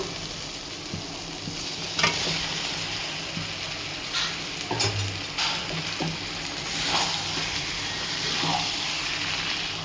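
Soya chaap tipped into frying masala crackles and hisses in a pan, with scattered scrapes and clinks of a spoon stirring through a continuous sizzle, close up.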